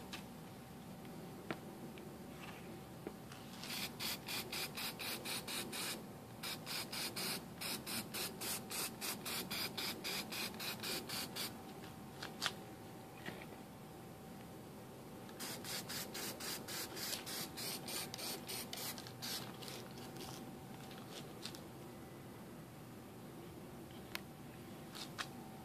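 Quiet, steady hissing bursts of spray paint, a few seconds each with short pauses between, over a low background hum.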